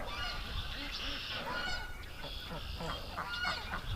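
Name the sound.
ducks calling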